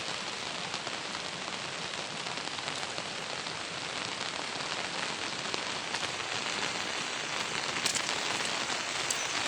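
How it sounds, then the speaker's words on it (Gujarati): Steady rain falling outdoors during a river flood, a dense continuous hiss of drops close by with no pauses, no voices over it. "વરસાદ પણ ચાલુ જ છે."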